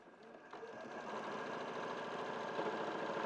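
A domestic sewing machine runs steadily, sewing parallel stitching down a zip with a soft, even mechanical whirr under a quiet studio background.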